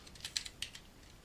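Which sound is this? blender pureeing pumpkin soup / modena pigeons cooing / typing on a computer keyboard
typing on a computer keyboard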